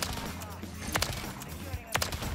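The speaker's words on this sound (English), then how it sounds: "Pull my shotgun out on it." Shotgun blasts ring out in the Modern Warfare 3 shooter game on the Shipment map, a couple of sharp booming shots over a dense, noisy wash of game audio and other gunfire.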